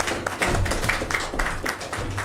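An audience applauds a panel at a planning committee meeting, a dense, steady wash of many hands clapping close and fairly loud throughout.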